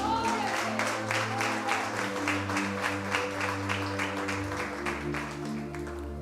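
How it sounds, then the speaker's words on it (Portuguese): A church congregation claps for Jesus during a Portuguese-language service, steady rhythmic clapping over a sustained low organ or keyboard chord that shifts pitch. "uma salva de palmas para Jesus"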